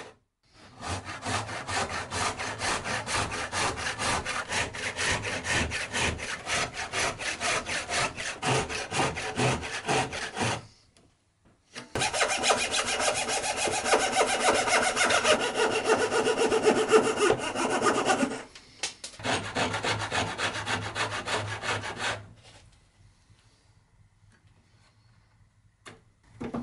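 Hand saw cutting dovetails in wood for a dovetail box, heard up close as three bursts of rapid, rasping back-and-forth strokes separated by short pauses, then near silence.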